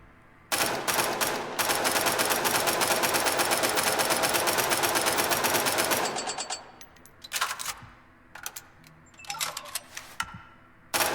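A carbine fires in Angels Fall First: a long, rapid automatic burst for several seconds, loud and close, then a few shorter bursts and single shots separated by pauses.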